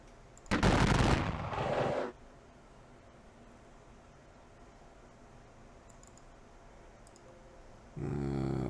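Gunfire in an American Civil War battle video game set at Perryville, heard as a loud, dense burst of crackling shots near the start, then quiet, with another sustained volley rising at the end; no voices.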